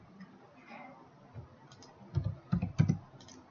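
A few soft, scattered clicks on a computer keyboard, then a short close burst of firmer keystrokes, all quiet with no voice.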